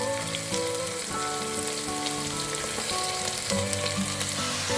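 Chopped raw papaya and broad beans land in a hot frying pan, giving a steady, close sizzle of frying vegetables with faint stirring scrapes and no talk.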